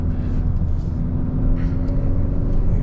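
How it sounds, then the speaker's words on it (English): A 2021 Hyundai Sonata N Line engine in Sport Plus mode pulls hard on a winding Orange County road, a steady deep droning rumble heard from inside the cabin, loud and continuous with no talk. "I'm sure you can hear the engine"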